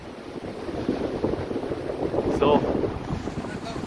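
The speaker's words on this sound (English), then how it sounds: "The wind is going so fast." Strong wind on the Rupin Pass mountain trek among snowy peaks buffets the microphone with a loud, continuous low roar that gusts harder midway, while a voice briefly speaks.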